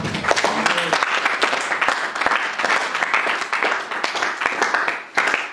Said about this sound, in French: Applaudissons très fort pour la parole, Seigneur.